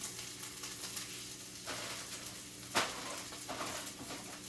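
Leeks sizzle steadily in a skillet, a continuous broad frying hiss with a sharper pop or crackle near the end, no talking over it.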